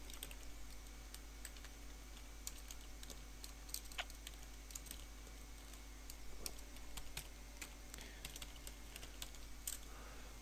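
Keys clatter on a computer keyboard during quiet login at a desk, irregular soft taps in short bursts over a steady low hum, with no one speaking.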